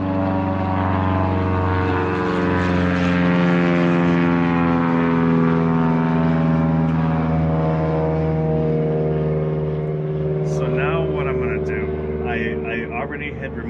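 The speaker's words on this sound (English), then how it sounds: "Sorry about the airplane noise. We're close to an airport." A propeller airplane flies low overhead near an airport, its loud, steady droning hum holding for several seconds, with a faint sweep as it passes during work on an RV alternator.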